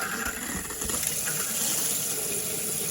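Cold water gushes steadily from a tap during plumbing leak testing, a continuous loud rushing stream close by with no voices.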